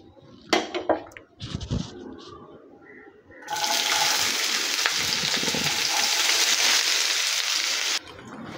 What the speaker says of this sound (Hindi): तेल गरम हो गलानी, एबे आमे पियाज पकेबा।